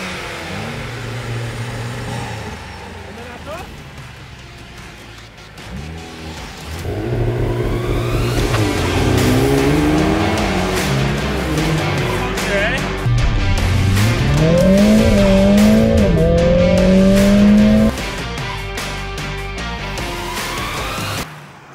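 Two Mercedes AMG hatchbacks, an A45 S and an A35, accelerate hard with engine roars climbing through the gears and a loud, sustained squeal of tires, the noise swelling close and then easing off.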